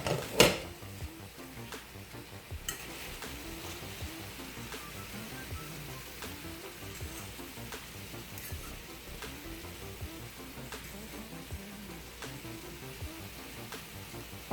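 Sausage and broccoli cook in a pan with a faint, steady sizzle, broken by occasional soft clinks and stirring scrapes.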